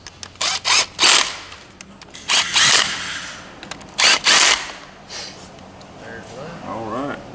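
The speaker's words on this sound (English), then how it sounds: "You get all your bolts started before you tighten any of them." A power tool drives bolts on a CFMOTO CFORCE 800 ATV engine during an oil and filter change, in several short loud bursts with brief pauses between them, followed by a person talking.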